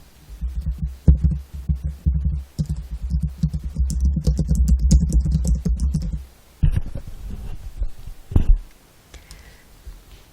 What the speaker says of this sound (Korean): 문제에서 제시되어 있는 내용을 그대로 타이핑을 하겠습니다